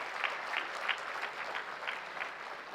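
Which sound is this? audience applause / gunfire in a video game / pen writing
audience applause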